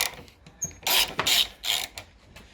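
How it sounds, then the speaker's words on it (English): A bolt is undone with a T30 star key on a Polaris Predator quad, heard as a few short, close bursts of ratcheting metallic clicks. "you need a T30 star key, and it's literally one bolt inside there that you need to take off"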